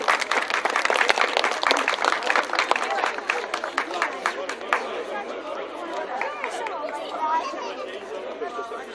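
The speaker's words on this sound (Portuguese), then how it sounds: "Molimo za jedan aplauz." An audience at a 2015 community event in Moštre breaks into applause, with dense clapping that gradually thins out as crowd chatter and voices carry on underneath.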